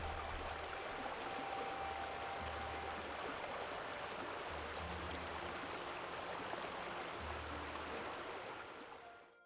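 Steady, continuous rush of a river pouring over a 3.5 to 4 metre waterfall, a full roaring wash with no voices, constant throughout.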